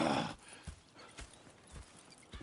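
Horses in the video game Red Dead Redemption: a burst of noise, then spaced hoof clip-clops and light snorts, close and moderately loud, with no talk.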